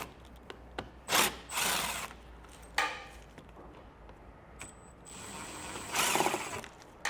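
T15 fasteners being removed from under the front of a 2024 Buick Envista, with a few short clicks and tool bursts against quiet background, no talking.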